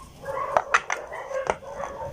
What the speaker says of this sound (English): my neighbor's dogs are really noisy